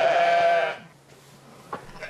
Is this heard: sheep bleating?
yes